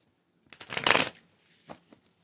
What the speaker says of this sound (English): I'm going to pull some cards.